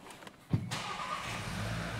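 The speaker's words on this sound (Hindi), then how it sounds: "इंजन स्टार्ट करता हूँ" A Skoda or Volkswagen car engine starts up nearby with a brief starter crank that catches into a steady low idle, after faint clicks beforehand and no talking.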